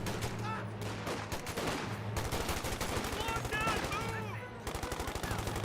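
Rapid, continuous machine-gun fire in the strategy game Company of Heroes 2, dense rattling bursts with brief gaps, with a voice talking over the shooting.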